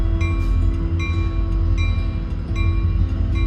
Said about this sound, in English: Currently sitting at a metro station, waiting for a train that I missed by a couple minutes.